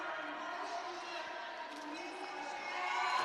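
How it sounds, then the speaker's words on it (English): Crowd cheering at the Africa Netball Cup in Swakopmund, Namibia, as the Namibian team plays: a steady roar of many voices, whoops and clapping that swells slightly toward the end, with talk mixed in. "Crowd goes wild."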